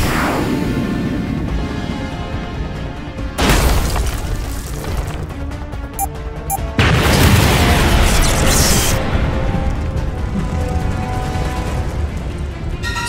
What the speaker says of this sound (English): Get ready to drop the bomb.